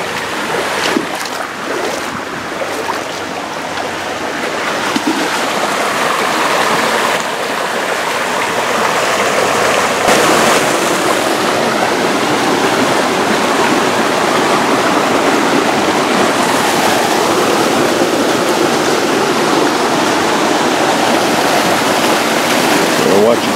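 Cold mountain stream water rushes over rocks on Mount Baldy, a loud, steady broadband wash that continues without a break throughout, with some wind and faint voices nearby.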